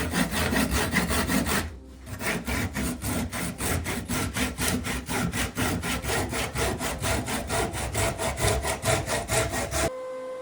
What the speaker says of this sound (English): Once I'm close enough though, I switch to a Japanese handsaw to finish the cut cleanly.